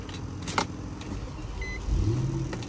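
An Infiniti FX45, just fitted with a new crankshaft position sensor, cranks briefly and fires up, its engine note rising as it catches and settling into a steady idle.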